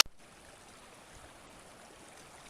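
Steady broadband rush of river water moving past a straight ledge-rock bank at a crossing point, continuous and moderately faint, with no voices.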